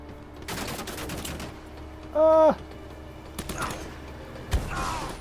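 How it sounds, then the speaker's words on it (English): Blind cover gunfire in Uncharted: Drake's Fortune, heard as a few scattered shots and mechanical clatter with a brief tonal game sound in the middle, moderately quiet and without speech. "Blind cover fire."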